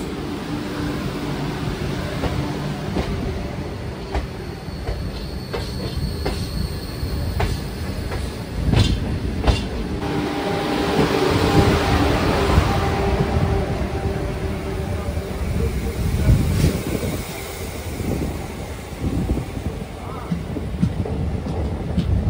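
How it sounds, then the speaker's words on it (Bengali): A Vande Bharat semi-bullet train rolls in toward Howrah station, its carriages rumbling and clattering steadily close by for a sustained stretch, with a few wheel squeals and sharper clanks, amid ambient crowd noise. "আমাদের সাথে দেখা হয়ে গেল আমাদের দেশের semi bullet train Vande Bharat"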